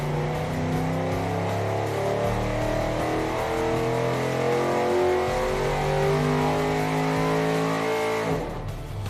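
A built turbocharged V8 revs hard on a dyno, its pitch climbing steadily as it pulls toward 6,500 rpm. The sound is loud and close, then it cuts off abruptly at the end.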